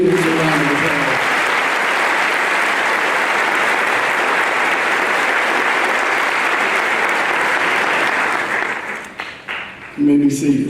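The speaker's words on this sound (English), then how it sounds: "Please give all of these students a round of applause." A crowd at a 2017 high school graduation ceremony applauds a group of students. The clapping is loud and sustained, fades out near the end, and a voice then begins speaking.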